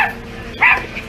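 A person imitates a dog's bark, giving a single short, loud vocal bark-like burst with a fainter yelp after it.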